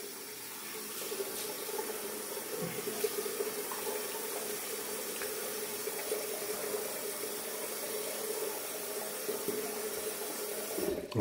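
Tap water runs steadily into a sink while a face is rinsed during a wet shave with a Rockwell 6S safety razor, a continuous close splashing stream with faint clinks.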